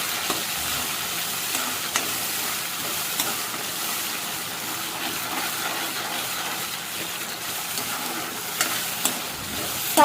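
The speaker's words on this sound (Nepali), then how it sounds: "टमाटरको पेस्ट राख्दैछु। त्यसपछिबाट गएर म टमाटरको पेस्टलाई एकछिन पकाउँछु है।" Tomato paste fries in a hot pan with a steady, close hiss and sizzle, punctuated by occasional light scrapes and clicks from stirring, with no voices.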